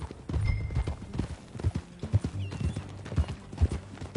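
Hooves clip-clop in an uneven rhythm as a horse is ridden in Red Dead Redemption 2, close and fairly loud, with a faint whinny and light background ambience.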